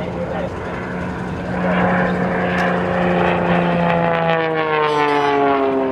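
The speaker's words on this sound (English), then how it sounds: "Rob flies the Czech Republic airplane" A single-engine propeller aerobatic plane flown at an air show roars past, its steady drone loud and close with the pitch sliding downward as it passes.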